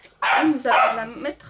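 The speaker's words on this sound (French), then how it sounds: "excusez-moi pour le chien" A dog barks sharply twice indoors, close and loud, overlapping someone speaking French while making a card.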